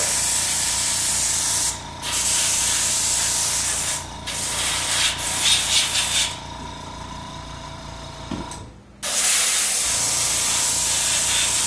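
Pur Colour sprays out in loud, close, hissing bursts, several long squirts separated by short pauses, with no talk.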